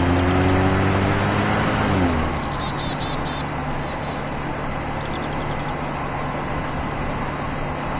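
A car driving in the Voices of the Void game: a loud engine drone with shifting tones that drops and settles into a steady, lower road rumble, with faint chirps briefly overhead.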